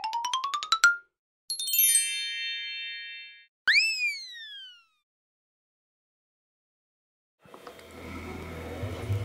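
Sega Dreamcast console starts up before loading NFL 2K2: a quick rising string of chimes, a bright sustained electronic tone, a swooping ding, then silence before the game's noisy intro begins.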